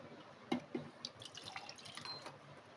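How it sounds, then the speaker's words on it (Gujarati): Water splashes into a mixer jar holding semolina and curd, a couple of quick close drips and small pours followed by a faint, thin trickle, with no voices. "હવે એમાં આપણે જે દહીં લીધું છે એ એડ કરી દેવાનું અને 1 કપ જેટલું પાણી એડ કરી દેશું"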